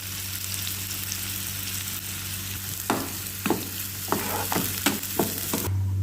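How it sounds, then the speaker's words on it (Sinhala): Onions sizzle steadily as they are tempered in hot oil in a pan, with a constant frying hiss and several sharp spatula scrapes and knocks in the second half, close by. "ඔන්න අපේ ලුණු ටික ටෙම්පරාදු කරගන්න හදන්නේ"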